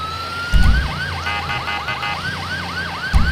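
Wailing emergency vehicle siren in the FiveM roleplay game, a repeating rising-and-falling yelp cycling steadily over a low engine drone, with brief low thumps at the start and end and no talking.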